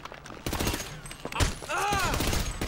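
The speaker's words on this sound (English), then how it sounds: "Something's shooting at me." Gunfire in Grand Theft Auto V, a burst of shots coming from range amid game sound effects, layered under someone talking and a whooshing sweep partway through.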